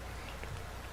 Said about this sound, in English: Holy crap, that rain is loud.